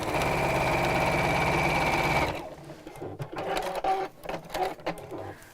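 A sewing machine stitches in a fast, steady mechanical whir for about two seconds, then stops, leaving faint clicks and handling noises.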